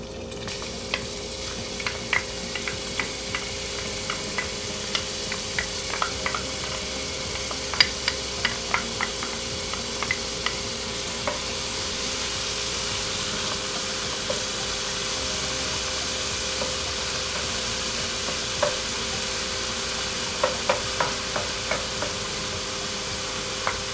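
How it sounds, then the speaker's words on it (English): Minced garlic and onions frying in oil in a pan, giving a steady soft sizzle with scattered small pops and crackles throughout, moderately quiet and close, with no talking. "Start with oil in the pan. Have some minced garlic, minced onions. It's gonna go straight in the pan"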